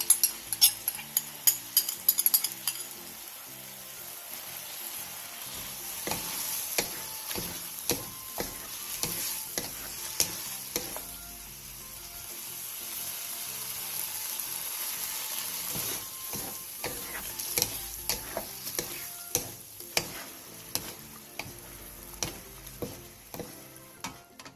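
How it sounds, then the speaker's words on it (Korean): Tofu stir-fried with the remaining seasoning sauce in a pan makes a steady soft sizzle, punctuated by repeated sharp clicks and scrapes of the spatula against the pan, close-up and without voices. "그 다음 포도부와 남은 양념장을 넣고 2분에서 3분 정도 더 볶아주세요"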